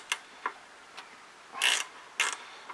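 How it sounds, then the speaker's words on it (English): A wrench works a 10 millimeter bolt loose on the fuel petcock of a Honda 300 Fourtrax ATV, giving a few faint, scattered metallic clicks and two short scraping bursts in a quiet setting. "that's a 10 millimeter bolt. Just break it loose"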